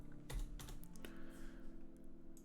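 Light typing on a computer keyboard, a few soft, close keystrokes in an irregular burst followed by near silence, very quiet overall.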